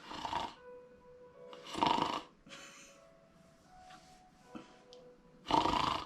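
A voice imitates a woman's snoring: several rough, rasping snore bursts come at uneven intervals with a few faint breathy snorts between them, close and loud against quiet background.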